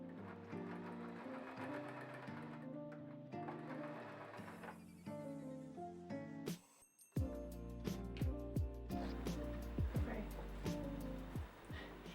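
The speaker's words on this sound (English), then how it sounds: "I then sewed the top part to make sure the inner lining doesn't shift when I'm using the book sleeve." Sewing machine stitching a fabric book sleeve made from old clothes, running in steady bursts with a brief stop midway before resuming, with a few clicks of the mechanism and no talking.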